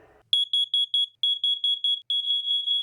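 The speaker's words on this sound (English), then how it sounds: "This piercing sound can save your life, but we've uncovered some disturbing details about Rhode Island's laws regarding carbon monoxide detectors." A carbon monoxide detector alarm sounds a piercing, high electronic tone: several quick evenly spaced beeps, then a longer steady blare, close and loud with no talking.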